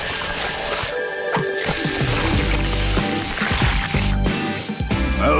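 A cartoon construction machine with a filled sprayer pouring concrete: loud, continuous mechanical whirring and rattling with ratchet-like clicks and hissing spray bursts, running steadily throughout.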